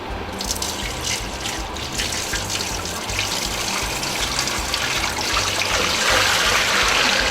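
Water runs steadily into a 20 kg choux pastry machine, a continuous close splashing pour that swells slightly louder toward the end, with no talking.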